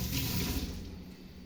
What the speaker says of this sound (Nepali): भाँडा मस्काउनु